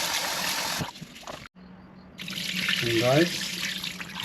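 Five cups of rice are washed under running tap water, a loud rushing stream into a pot broken by a brief pause, with a short spoken phrase over it.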